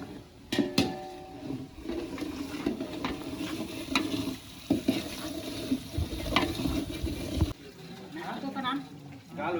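Spices tempering and sizzling in hot oil for a mutton meal at an outdoor family gathering, a steady crackling hiss under ongoing voices and clatter, with a few sharp clinks.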